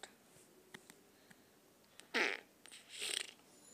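Short fart noises during a playful craft session: one loud, spluttering burst a little past the middle, then a longer, rougher one near the end, with faint ticks and quiet room sound around them.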